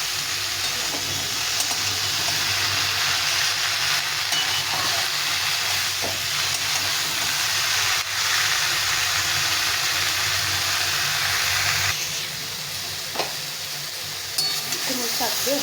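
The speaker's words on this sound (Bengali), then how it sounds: "কুমড়ো শাক দিয়ে ভালো করে নেড়ে চেড়ে নিলাম" Pumpkin greens sizzle and fry in a pan while being stirred, giving a steady bright hiss with intermittent scraping clatters of the spoon, close and continuous, the sizzle easing somewhat toward the end.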